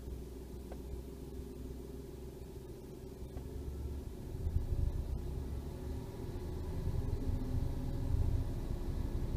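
A Toyota Aygo's small petrol engine rumbles at idle, then builds into a deeper, louder revving drone as the throttle is pressed, the rise heard twice and steady with no speech.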